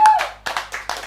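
Three short bursts of hand clapping, close and sharp, come in a quick, uneven rhythm during a Mobile Legends tournament broadcast.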